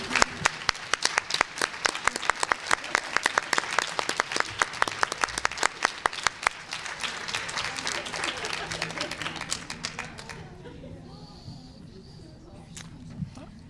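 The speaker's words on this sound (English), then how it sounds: "how about another round of applause?" An audience at a primary-care healthcare gathering applauds, with sharp, dense clapping that thins out and fades away over about ten seconds, followed by quieter room noise.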